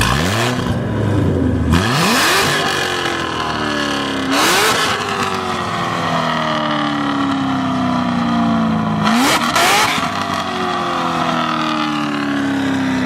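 A Corvette sports car engine, C7 or 2021 C8, revs hard several times, each burst climbing in pitch before shifting and settling, loud and close with no talking.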